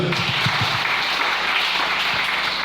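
A church congregation claps together in a steady, even wash of applause that fills the room and stays moderately loud, with no speech over it.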